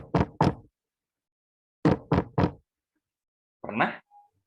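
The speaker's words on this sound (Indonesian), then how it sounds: "Pernah mendengar suara ketukan pintu?" Knocking on a door in three separate bursts: two knocks, a pause, then three knocks, each sharp and close, followed by a short muffled thump.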